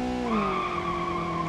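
Tires squeal in a sustained, loud skid as a Skyline 2000 burns rubber in BeamNG.Drive, a steady pitched screech holding close and alone for over a second.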